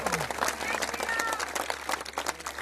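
An audience at a devotional speech claps together, a dense, moderately loud patter of hands lasting a couple of seconds with voices mixed in.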